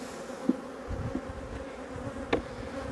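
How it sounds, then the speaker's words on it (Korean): Honeybees drone steadily around an opened hive during beekeeping work on queen excluders, a continuous close buzzing with a few louder passes of individual bees near the listener. "보시듯 이렇게 벌이 많이 붙어 있습니다"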